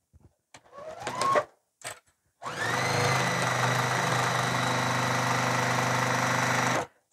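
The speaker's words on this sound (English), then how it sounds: "we're going to stitch all the way around the whole entire zipper, sealing it completely shut" A sewing machine stitches around a bag zipper at a 2mm stitch length: a few brief handling rustles, then a steady, close, continuous motor whir that runs evenly for about four seconds before stopping.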